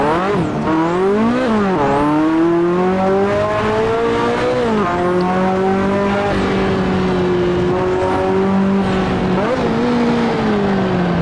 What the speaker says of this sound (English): I'm pressing the clutch now and revving it.